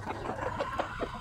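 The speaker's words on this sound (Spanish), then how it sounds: "uno de los gallos chocolates ya totalmente formado" A young chocolate-colored rooster, now fully grown, gives soft, close clucks in a short, fairly faint burst with no talk.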